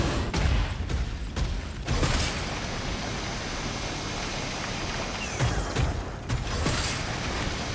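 A door-unlocking mechanism in the video game Synduality: Echo of Ada, with several sharp mechanical clunks and creaks at the start, then a long grinding hum and more clanks near the end, loud and close.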